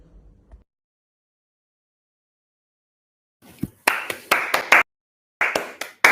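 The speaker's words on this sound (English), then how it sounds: "Round of applause for Noah." Applause at the close of a live online magic show, arriving after a long silence as short bursts of clapping with brief gaps between them, fairly close and moderately loud.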